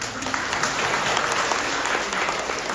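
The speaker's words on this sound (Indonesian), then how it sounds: "Tepuk tangan untuk mereka." A crowd applauds a school gamelan and choir performance steadily, a dense wash of clapping at constant loudness throughout, with no voices standing out.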